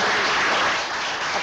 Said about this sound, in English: Applause greeted Joseph DiBernardo Jr. as he was wheeled out of the New York Presbyterian Hospital Weill Cornell Medical Center.